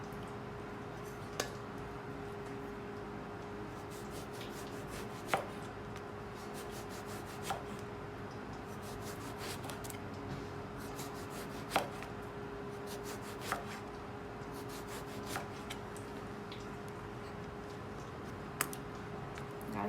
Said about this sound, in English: Baigan have a little nick here. I'm just gonna slice that out.